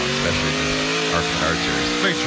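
An ARCA Menards Series race car on the Mid-Ohio road course revs hard, rising and falling through smooth upshifts and downshifts. The engine is loud and close, with commentary running over it.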